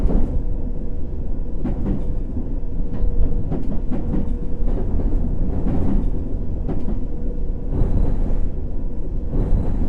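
A London Underground Circle Line train runs steadily and loud throughout, a constant low rumble with rattling and intermittent clicks and squeals of the carriages, and no voices.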